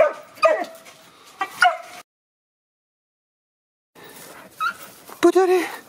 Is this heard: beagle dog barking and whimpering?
yes